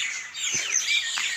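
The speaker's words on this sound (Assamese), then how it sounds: "চৰাই কোলাহল শুনিছে নিশ্চয়" Several birds chirp and tweet in the early morning where they roost overnight, with quick, bright calls overlapping closely and clearly, and no one speaking.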